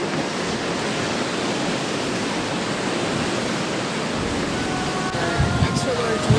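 Ocean waves wash against the Cape Breton Island coast in Nova Scotia as a steady broadband roar of surf, loud and unbroken, with faint sounds creeping in near the end.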